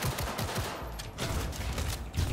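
Gunfire in Cyberpunk 2077, several rapid shots in bursts over a dense, noisy background of effects; loud and close throughout.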